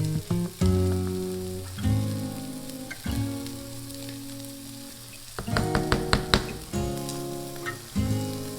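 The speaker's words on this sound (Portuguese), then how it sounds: "enquanto elas estão grelhando na frigideira" Meatballs browning in a frying pan sizzle steadily and up close, with bursts of crackling and a few stirring clatters along the way and no talking.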